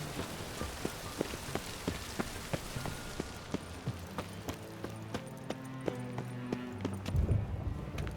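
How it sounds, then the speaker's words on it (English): Steady rain patters on surfaces in The Witcher 3 video game, with a horse's hooves clip-clopping through it, soft and continuous with occasional louder drops. "I like rain. Keeps the rogues indoors."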